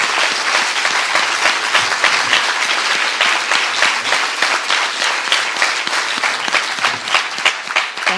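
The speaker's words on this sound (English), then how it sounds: "let's do that thing where we applaud Liz Magor." An art gallery audience at a prize event applauds, dense sustained clapping from many hands filling the room at a steady, loud level throughout.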